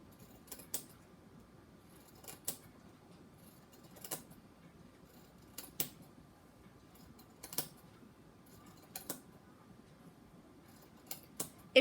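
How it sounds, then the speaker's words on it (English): Scissors cutting along the hem of a T-shirt, making a series of quiet, evenly spaced snips in near silence. "Just cutting right along that hem line."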